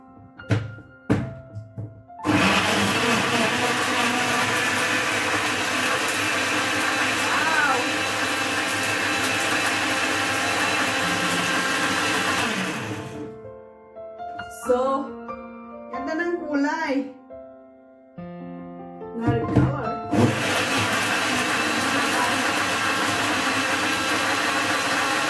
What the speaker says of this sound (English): Let's get in the blender.